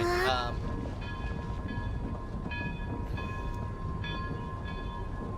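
A train rolls past in the video game Genshin Impact, a steady rumble carrying a held, tonal horn that swells and fades in several bursts, close and continuous throughout.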